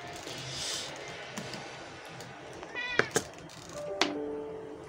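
A domestic cat wanting to come indoors meows a few times, short nearby calls rising and falling in pitch, with a soft thump and faint room noise between them.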